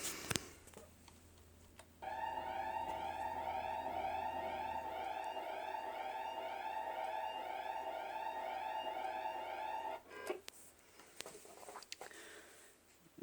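Angola emergency alert system alarm tone: a loud, sustained electronic alarm of stacked steady tones with a warbling upper layer, running for about eight seconds before cutting off abruptly.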